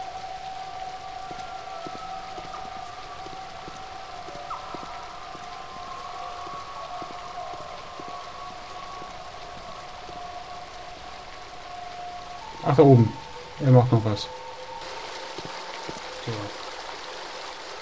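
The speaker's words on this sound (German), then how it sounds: "Durch das Loch strömen Wassermassen nach unten." Water pouring down through a hole in the adventure game The Dig: a steady, rushing stream with a faint tonal hum beneath, while someone speaks briefly partway through.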